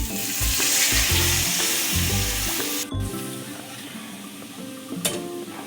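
Water hits a hot pan of spiced oil for a pabda fish curry and bursts into a loud, steady sizzle that eases slightly and keeps hissing, close up, with stirring and no speech.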